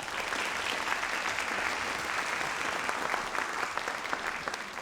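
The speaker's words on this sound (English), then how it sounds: "Please give him a round of applause." An audience at a nursing candle-lighting ceremony applauds a student violinist, a continuous, even roar of clapping heard at a distance and somewhat faint, lasting about five seconds.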